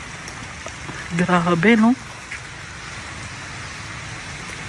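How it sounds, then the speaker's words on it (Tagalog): Steady rain falls as a soft, constant hiss outdoors in flood-hit Capiz, briefly interrupted by a short spoken remark. "narinig nyo naman umuulan pa"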